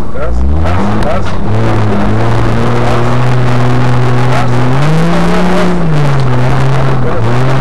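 A car engine revs hard and close as the throttle is pressed and eased, its loud droning pitch rising and dipping in steps, with a voice speaking over it.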